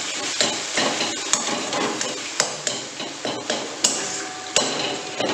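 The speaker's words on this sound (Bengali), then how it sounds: "এবারে আলু সেদ্ধটা অ্যাড করে দিচ্ছি, গ্যাস বন্ধ করে এটাকে ভালো করে এর সাথে মিক্স করবো।" Boiled potato is stirred into a paneer filling for stuffed pointed gourd in a pan, a spatula scraping and knocking against the metal in repeated sharp taps over a soft sizzle.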